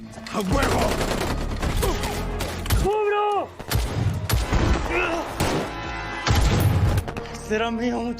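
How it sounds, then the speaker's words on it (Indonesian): Rapid bursts of gunfire and heavy booms crackle through a dramatic film scene of elite soldiers fighting criminals, with shouting voices and other tonal sounds cutting in between shots. "salah satu tembakan Guerrero mengenai seorang anggota musuh dan membuatnya terjatuh"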